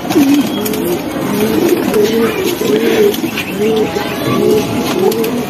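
Female Bagha pigeon giving repeated soft, rolling coos close by, several low calls in a loose rhythm over a busy background, with someone talking alongside.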